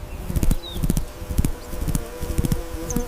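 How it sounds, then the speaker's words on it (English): A hummingbird's wings hum and buzz in a steady fluttering drone, with repeated pulsing wingbeat bursts close to the microphone and a few faint high chirps. "Hummingbird. Hum, hum."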